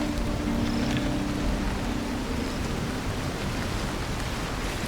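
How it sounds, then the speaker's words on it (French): Steady rain pours down at night in the video game Cairn, a dense continuous hiss with no pauses, filling the scene evenly and unbroken by any voice. "il fait nuit et il pleut"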